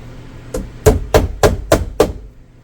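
Six sharp hammer blows tack fasteners into a wall during a bathroom extension build, struck close and loud in a fairly even rhythm with short gaps between strikes.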